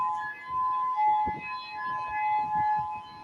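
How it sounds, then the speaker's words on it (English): Fire sirens sound for a fire in Kaanapali, Hawaii. Several steady wailing tones hold throughout, moderately distant, over low rumbling background noise. "Finally hearing the sirens going off this time."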